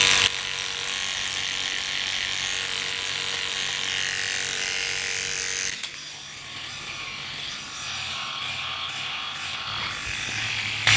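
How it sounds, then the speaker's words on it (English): A Philips Series 5000 electric shaver's trimmer buzzes steadily while cutting stubble, close and continuous, dipping briefly midway as the head shifts against the skin before resuming its bright whirring drone. "let's use that trimmer"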